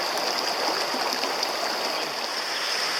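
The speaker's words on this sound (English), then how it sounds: "And the trail crosses the river." A river crossing a trail in an Idaho canyon flows steadily with a constant broadband rush and gurgle. It stays close and even throughout, with no voices.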